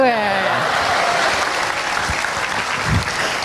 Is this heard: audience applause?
yes